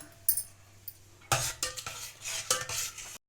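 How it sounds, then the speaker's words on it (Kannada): A spoon stirs soaked sago and salt in a pot, starting after a quiet moment with a run of close scraping and clinking strokes against the metal, then stopping abruptly. "ಇದನ್ನು ಸ್ವಲ್ಪ ಮಿಕ್ಸ್ ಮಾಡೋಣ"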